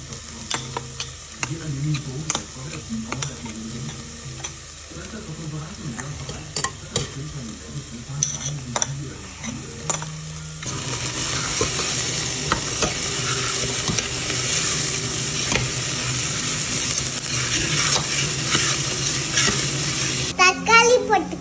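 Green chili, ginger and garlic sizzle and are stirred in a hot pan, with scraping and clinking early on, then a loud steady frying hiss that swells midway; a voice is faintly heard in places.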